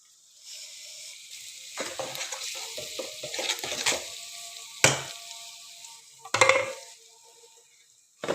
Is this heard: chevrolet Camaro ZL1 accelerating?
no